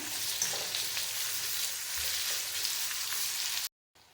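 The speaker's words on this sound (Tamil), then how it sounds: "ஒரு கொத்து கருவேப்பிலை சேர்த்துட்டு எல்லாத்தையும் நல்லா வதக்கி விடுங்க" Red chillies and curry leaves sautéing with onions in hot oil for a karamani kara kulambu, a steady bright sizzle with faint stirring scrapes, ending abruptly in silence.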